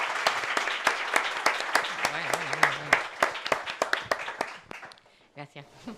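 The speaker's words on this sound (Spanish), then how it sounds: "Un aplauso para Leonor Regife." A small audience at a literary event in Málaga applauds, a brisk burst of many clapping hands that thins and fades over a few seconds while a voice speaks over it.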